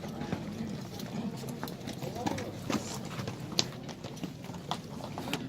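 Horse hooves clip-clop on hard ground at a livestock market, a scattered series of light knocks under steady crowd murmur and nearby talking.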